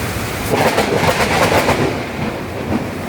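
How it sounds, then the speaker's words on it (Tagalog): Heavy rain pours outside SM Aura mall on a stormy afternoon, a dense, steady hiss with slight surges, close and unbroken, with no talking. "Isang maulan na hapon dito sa labas ng SM Aura."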